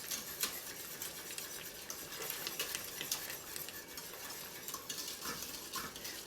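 A spoon scrapes and stirs steadily around a pot of sea salt caramel sauce, with a soft bubbling, sizzling hiss underneath, close and continuous.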